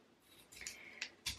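Scissors snip a few quick cuts while preparing diamond painting materials, producing faint close crisp bursts at an uneven rhythm.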